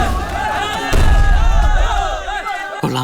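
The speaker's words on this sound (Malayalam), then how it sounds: "കൊള്ളാം, പച്ച മഞ്ഞ ചുമല വെടിക്കിട്ട് കലക്കി." A fireworks display in a Malayalam film scene bursts with loud booming thuds and crackles under swirling music, with crowd noise and shouting mixed in.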